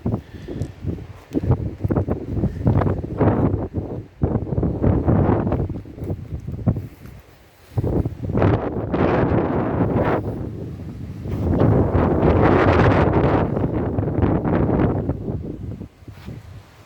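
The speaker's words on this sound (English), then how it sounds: "It's a bit windy today, so apologies for that." Heavy wind buffeting the microphone outdoors beside a BMW G 650 GS Sertao motorcycle, loud low roaring gusts that surge and drop, with a short lull before blasting again.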